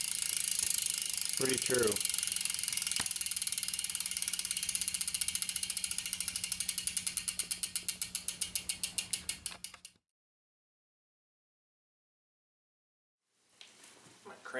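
Bicycle wheel spinning on a maintenance stand with the freewheel ratchet ticking, the clicks slowing and spreading out as it coasts to a stop, then silence and faint handling noise; a brief voice is heard early.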